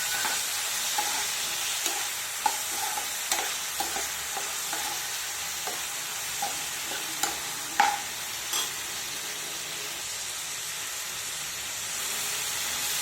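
Tomato pieces and fenugreek leaves frying in a pan for methi dal, a steady close sizzle punctuated by repeated stirring clicks and scrapes at irregular intervals, with no talking.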